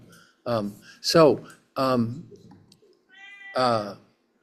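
A hungry-sounding cat gives a series of clear, close meows, four or five drawn-out calls spaced about half a second apart, sounding indoors near a waiting room.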